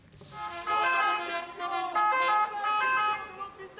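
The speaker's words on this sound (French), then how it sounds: "Feux de Bengale, pétards et sirènes allumées." Ambulance sirens wail in overlapping tones at a workers' protest by stretcher-bearers and ambulance crews, loud and continuous, without audible firecracker bangs.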